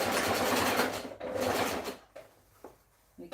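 A sewing machine stitches a dress seam in two short, close bursts, then stops, followed by a few light clicks and handling knocks.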